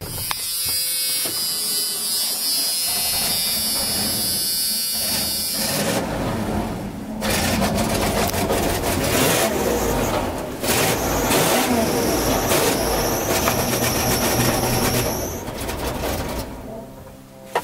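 Engine of a 1994 Ford F-350 4x4 flatbed pickup jump-started from a jump box with a loose muffler, a rough buzzing idle close by that rises in a few revs, with no talking.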